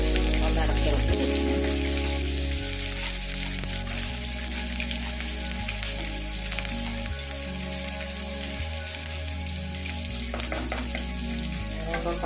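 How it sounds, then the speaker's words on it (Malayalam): Chicken curry masala sizzles steadily in a pan on the stove, a continuous close frying hiss with occasional scraping stirs, while background music plays underneath. "ഇതൊന്ന് വഴറ്റി കൊടുക്കാം."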